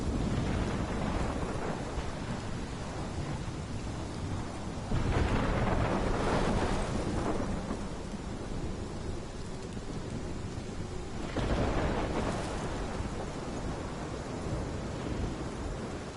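A thunderstorm in the video game Life is Strange roars with steady heavy rain and wind, and two loud rolling thunder rumbles swell and fade, with no talk.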